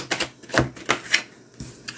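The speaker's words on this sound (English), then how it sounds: "you saw me shuffling that sucker like a madman" Tarot cards being shuffled hard and fast, about six crisp riffling slaps over two seconds, close and clear with no talk.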